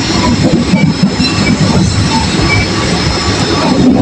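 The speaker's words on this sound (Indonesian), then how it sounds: "Beginilah suasana kalau naik kereta api dari stasiun Garut." Steady rumble of a passenger train running from Garut station through mountains and rice fields, heard from inside a carriage, with continuous wheel and rail noise and faint squealing tones throughout, no talking.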